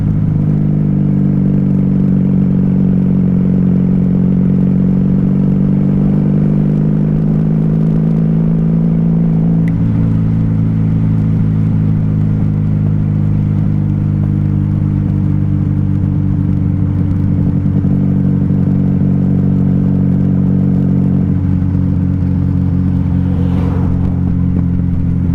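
Steady low engine drone of a 1994 Honda Magna 750 VF750C motorcycle running out of fuel on low gas with no power, heard up close while riding, the pitch sagging and shifting as it struggles.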